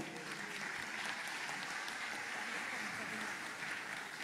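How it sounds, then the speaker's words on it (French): A church congregation at an Adventist pastor's consecration applauds the musicians, singers and technical team, a dense continuous wash of clapping at moderate distance with some faint voices mixed in. "on peut les applaudir"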